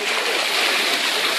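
A child swimming in a pool sends up a steady, close wash of splashing water that runs unbroken and fairly loud for a moment, with no voices over it.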